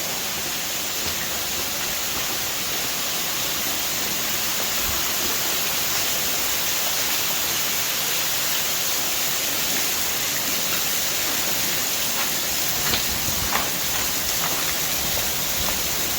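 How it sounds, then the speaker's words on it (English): Broad steady roar of water pouring from an underground waterfall at the far end of a flooded old mine with preserved timbers, a continuous hiss and rumble held at an even level throughout without voices. "There's the mother of waterfalls. The ultimate waterfall is right at the far end."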